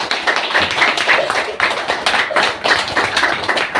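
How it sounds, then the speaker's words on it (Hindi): Applause for Dr. Leem during a DXN product training session, sharp closely miked claps in uneven bursts with a few louder hand strikes standing out from a smaller group. "लेकिन डॉक्टर लीम के लिए जोरदार तालियां होनी चाहिए।"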